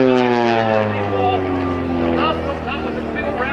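Tiny aerobatic airplane flying at the New Garden airshow, a steady droning propeller engine whose pitch slowly slides downward as it passes, with an announcer talking over it.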